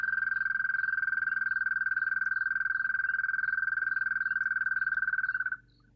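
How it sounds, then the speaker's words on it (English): Male frogs croak in a rapid, steady trill, loud and close, running unbroken for over five seconds before stopping abruptly, with no voices. "And which frogs are the ones doing all the croaking?"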